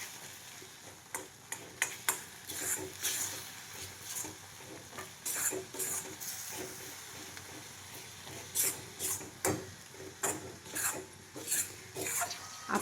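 Grated coconut and jaggery are stirred in a hot wok with the gas off, giving repeated rhythmic scrapes of a spatula over a faint sizzle, close and without talk.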